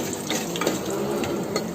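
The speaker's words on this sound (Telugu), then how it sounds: "ఒకసారి కలుపుకోవాలి." Spices, including coriander seeds, are stirred in a frying pan while making a ridge gourd chutney, giving a soft, steady sizzle with light scraping taps close by.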